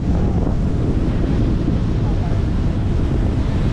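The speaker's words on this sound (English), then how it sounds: "That rushing water is just tidal." Tidal water rushes through a narrow rocky gap at Horizontal Falls, Western Australia, heard as a loud, continuous broadband roar mixed with heavy wind buffeting the microphone, steady throughout with no break.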